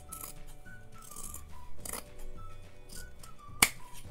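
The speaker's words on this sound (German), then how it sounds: "Jetzt schneidet ihr auch hier die Kante knapp ab." Scissors snip along the edge of a sewn fabric notebook cover, with a few soft cuts and light rustling, then one sharp click near the end, all close and quiet.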